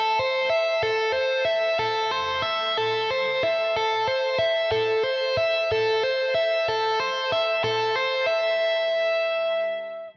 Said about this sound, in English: I would want to bring in the right-handed tapping technique